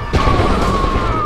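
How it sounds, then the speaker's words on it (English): A grenade explodes in the shooter video game F.E.A.R. 2 with a sudden loud, deep boom that rumbles on briefly afterward. "Look out, grenade!"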